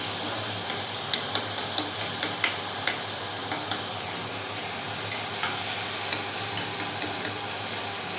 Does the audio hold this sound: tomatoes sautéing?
yes